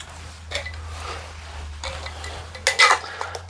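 Plastic lids pressed onto food containers of a plant-based dish headed for the freezer, heard as a few close clicks and clatters with one sharper snap near the end, amid light kitchen handling.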